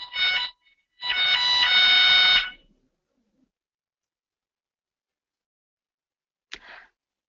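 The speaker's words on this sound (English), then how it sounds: "Sounds like Evelyn's fire alarm" A shrill electronic fire alarm beeps in two bursts, the second longer, then silence before a short faint blip.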